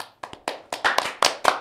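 Audience at a Gloria Christian high school event clapping in bursts from one side of the room, several sharp separate claps building into a brief round of applause, fairly close and with no talk.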